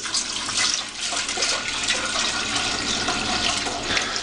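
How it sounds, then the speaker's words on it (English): Sweet tea streams into the pot of a non-electric Survival Still water distiller, a steady close pouring and splashing that swells and dips slightly throughout, with no talking. "And what I'm going to do is I'm going to fill it up with my dirty water."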